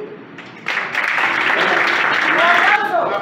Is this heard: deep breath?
no